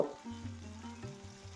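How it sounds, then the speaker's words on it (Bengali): Soft, steady frying hiss of pumpkin fritters in hot oil over a medium-low flame, with a low hum underneath, continuous and fairly quiet throughout. "আমি এখন বড়াগুলোকে ভেজে নেব"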